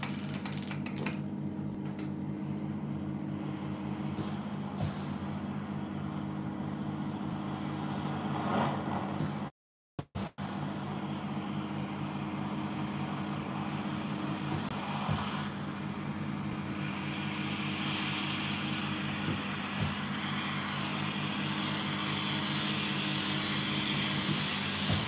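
A Smiths Little Torch burning gas and oxygen roars steadily in a steady, close hiss for the whole stretch, broken by a brief cutout, with faint clinks in the background.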